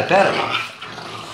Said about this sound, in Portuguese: Então vou deixar os cachorros brincando aí